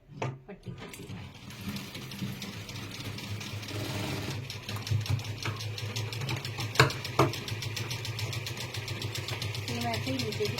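A sewing machine stitches a border strip onto a blouse, its motor whirring in a fast, steady mechanical rhythm after a short start. Someone talks over the machine throughout.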